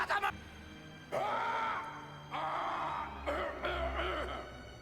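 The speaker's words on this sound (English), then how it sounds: "him clearing his throat" An animated character clears his throat with a few rough, gravelly bursts, fairly quiet and set against background score.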